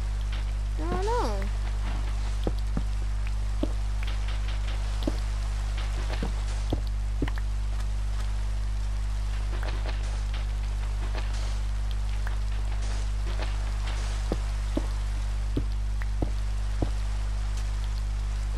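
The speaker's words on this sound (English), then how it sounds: "It's been raining for like an eternity now." Rain falls in the video game Minecraft, a steady soft patter with scattered droplet taps under a constant low hum, while a player talks over it.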